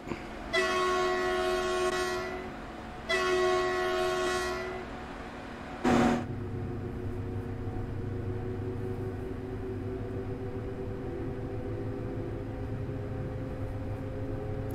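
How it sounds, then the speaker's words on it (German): Train horn on a German railway in the video game Train Sim World 3: two long, loud tonal blasts, then a short burst, followed by a steady rumbling train running underneath. "Getting lots of requests for the horn"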